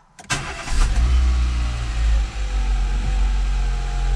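A Peugeot car engine cranks briefly and catches, then settles into a steady, loud, close idle rumble.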